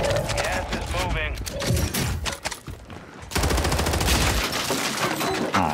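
Rapid video game gunfire, sustained loud automatic bursts and scattered shots forming a continuous clattering battle mix, with game voices mixed in.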